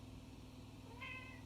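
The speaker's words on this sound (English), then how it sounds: "That's my cat, Mooch." A domestic cat gives one short, faint meow near the end, heard indoors over a low steady background hum.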